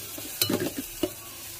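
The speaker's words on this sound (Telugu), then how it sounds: "ఇది బాగా ఫ్రై అయ్యేలా నూనెలో వేయించుకోవాలి" Turmeric, chili powder and garam masala frying in hot oil while being stirred, with a few short scraping clatters and a soft sizzle in a quiet kitchen.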